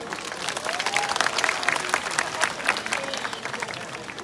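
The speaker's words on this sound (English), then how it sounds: "How about a round of applause for Midnight?" Applause from a live audience at a nocturnal wildlife show at a night safari, steady dense clapping throughout, moderately loud and fairly close, with faint crowd murmur underneath.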